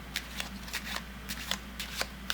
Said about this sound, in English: shuffle off the rest of the cards in small chunks on top of the in-jog